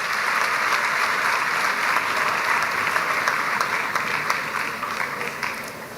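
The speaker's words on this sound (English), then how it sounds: "Keep the applause going, man," A large audience at a university student orientation applauds for the principal, a thick, continuous roar of clapping hands that holds steady for several seconds and eases off a little toward the end.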